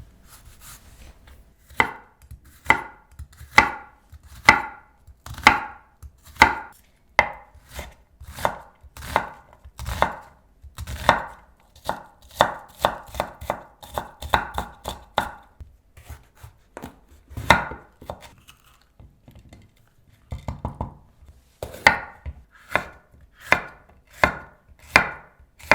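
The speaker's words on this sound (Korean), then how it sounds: "양파와 파프리카를 잘게 썰어주세요." Onion and bell pepper being chopped finely with a knife on a cutting board, brisk rhythmic thuds in quick bursts with short pauses, close and loud with no talking.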